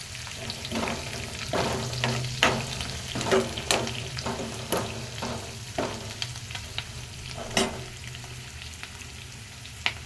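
Onions fry with a pinch of salt in a pan for an Andhra-style egg, drumstick and tomato curry, a steady close sizzle punctuated by regular clicks of a spoon stirring, with no talking.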